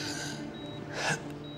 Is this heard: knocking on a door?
no